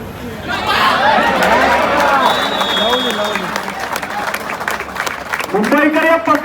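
Crowd applause and cheering at a kabaddi match between Indian Navy and UP Yoddha: a loud, steady wash of clapping and crowd chatter throughout, with a commentator's voice running over it.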